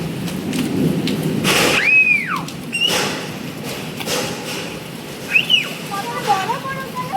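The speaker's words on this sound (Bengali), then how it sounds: "এখনো বৃষ্টি পড়ে যাচ্ছে।" Steady heavy rain hisses throughout an afternoon hailstorm, with a low rumble of thunder underneath, while people talk and call out over it.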